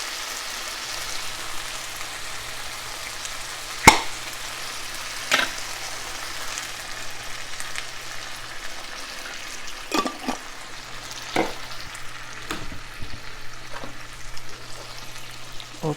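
Chicken frying in a pan as salsa or picante sauce goes in, a soft steady sizzle broken by a few sharp clanks and scrapes of a utensil against the pan, close and fairly quiet.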